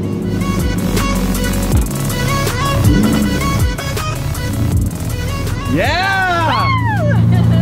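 A Lamborghini V12 engine revs hard while the car drives, with a loud, sustained, rising engine drone under excited voices, a shout and upbeat music.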